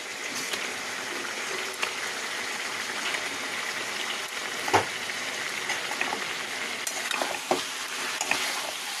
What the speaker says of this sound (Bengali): মাছগুলো দিয়ে কষাবো।